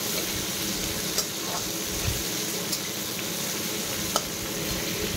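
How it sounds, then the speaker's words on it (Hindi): Two onions frying in oil in a pan for a fish-head dalma, a steady close sizzle with faint clinks and stirring taps scattered throughout. "2टा प्याज को तेल रे टिके भाजी नबा।"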